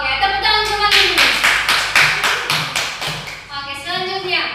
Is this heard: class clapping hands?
yes